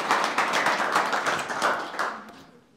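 An audience claps warmly inside a jail during a motivational talk, a dense burst of many hands that keeps going steadily and then fades out toward the end.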